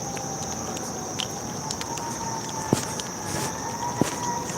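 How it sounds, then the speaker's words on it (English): Emergency vehicle sirens wail faintly in the distance outdoors in the early morning, steady and continuous over a low background hum. "There you go with the sirens and all of that."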